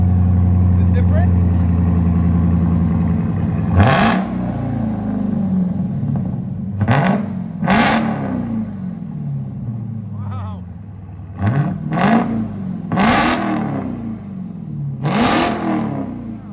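2022 Dodge Charger SRT Hellcat with a 6.2L supercharged HEMI V8 and straight exhaust revving: a loud idle rumble broken by several sharp, rising revs that climb and fall back, with voices talking between them.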